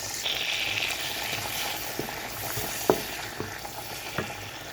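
Tomatoes and onions sizzle steadily in a pan while a utensil stirs them, giving a few soft scraping clicks and one sharper knock against the pan, close up and without talk.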